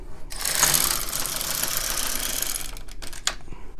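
An LK 150 knitting machine knits a plain row, with the carriage producing a loud, steady mechanical whir and rattle for about three seconds, followed by a couple of brief clacks as it stops.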